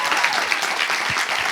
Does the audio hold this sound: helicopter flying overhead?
no